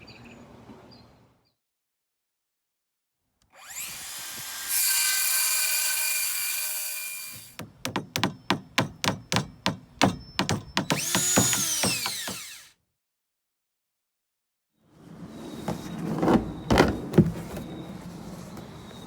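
Handsaw cutting the bottom off a plastic trash can, heard in separate bursts: a long grinding stroke, then a run of quick rhythmic back-and-forth strokes, a pause, and a final rougher burst, close and fairly loud.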